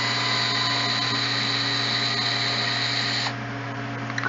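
A power driver works the screws out of a Traxxas X-Maxx RC truck during a teardown, giving a loud, steady motor whine that carries without a break for about three seconds before the pitch and level drop slightly.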